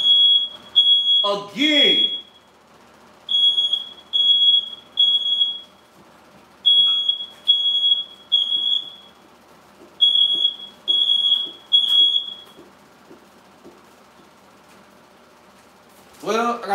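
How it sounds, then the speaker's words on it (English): A sensitive smoke detector in a house beeps in a loud, repeating pattern of short triple bursts with brief pauses between groups, set off during cooking, with a voice speaking briefly over it and clattering at the start. "These damn smoke detectors in this house is so sensitive"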